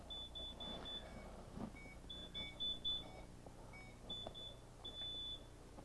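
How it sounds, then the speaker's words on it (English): A home security alarm keypad sounds short, clear high beeps in repeated groups of about four during disarm, faint and close, over low background hum. "it kept giving you the four beeps to say I'm in the away position until the time you finally get the complete code in"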